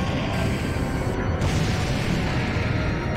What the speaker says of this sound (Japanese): あれね、大砲撃ってきてましたよ。